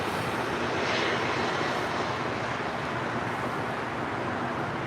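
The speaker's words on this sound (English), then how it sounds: "Here's another Spirit A320." Spirit Airlines Airbus A320 jet at LAX, a broad, steady engine roar heard from a distance that swells slightly and then holds level.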